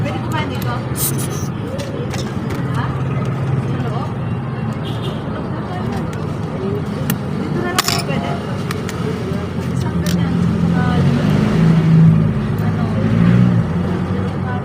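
A vehicle engine runs, a steady low hum and rumble that swells louder in the later seconds, with scattered clicks and knocks over the top and some talk in the background.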